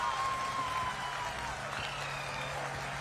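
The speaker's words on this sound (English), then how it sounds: "People are applauding." Continuous applause from a crowd, a dense steady wash of clapping at moderate distance, with a faint tone drifting over it.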